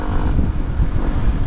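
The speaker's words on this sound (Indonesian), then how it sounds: "Kencang anginnya di sini." Strong wind buffets the microphone while riding a motorcycle around Bandung in the afternoon, a loud, continuous low rumbling gust noise with no voices.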